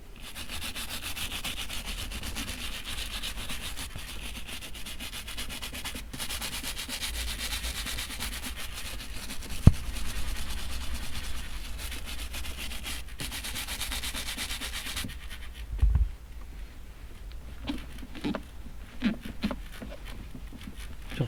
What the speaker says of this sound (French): Ça trisse quand même pas mal, hein, quand on frotte.